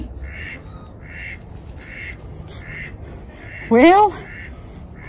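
A goose lets out a single loud honk near the end, close by, after a stretch of repeated soft bird calls and ambient noise in a rescue setting; a brief spoken word comes earlier.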